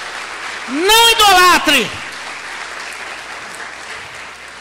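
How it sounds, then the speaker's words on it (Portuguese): A church congregation at a worship service breaks into a brief burst of applause lasting about a second, mixed with a voice speaking over it, before the room settles back to quiet. "Você pode aplaudir o Senhor por esta promessa?"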